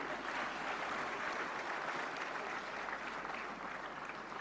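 A large audience at a national film award ceremony breaks into thick, continuous applause that stays even and loud throughout, a uniform roar of clapping with no single hands standing out.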